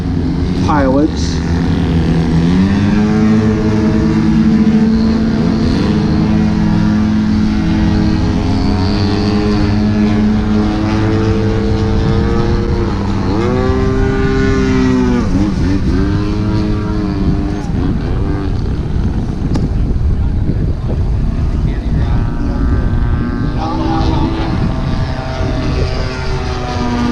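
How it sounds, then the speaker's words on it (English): Radio-controlled aerobatic airplanes hover on high thrust at an outdoor flying event, their propeller engines droning loud and continuous with rising and falling pitch sweeps throughout, with faint talk underneath. "to be able to do a one airplane hovering and then doing a rolling Harrier around it"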